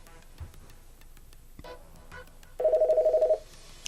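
An office telephone on a small-business phone system rings for an incoming call: a single electronic warbling ring burst of under a second, heard after a few quiet clicks and handling sounds.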